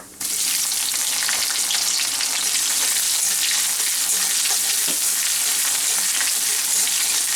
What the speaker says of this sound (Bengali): পেঁয়াজটা একটু ভেজে নেব, খুব লাল করে আমি ভাজবো না